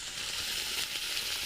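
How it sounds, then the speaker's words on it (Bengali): A mutton mixture frying in a little oil over low heat, giving a steady, close sizzle and crackle throughout with no talk. "আর এই যে তেল, অল্প তেল দিয়ে এই মিশ্রণটা ভাজা ভাজা করবো।"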